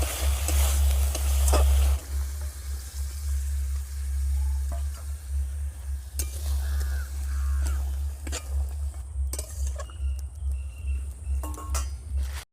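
Boiled potatoes and peas tipped into hot masala frying in oil, a loud low sizzle with clinks of a spoon against the pan and stirring scrapes, briefly quieter midway then sizzling again.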